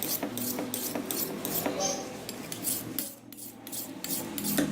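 Knife blade drawn over the smooth grit side of a whetstone, heard as repeated close, rhythmic rasping strokes with a brief pause near the middle before the strokes resume.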